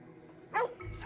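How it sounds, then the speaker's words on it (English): A dog barks once in the video game Ghostwire: Tokyo, a single short yip in the middle of the moment, heard over low game ambience. "Oh, that's a dog."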